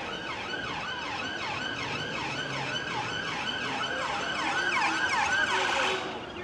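Police sirens wail over a street during a protest in Blackpool as a police van tries to get through, with a loud, continuous rising-and-falling two-tone siren close by that swells toward the end, with no talking.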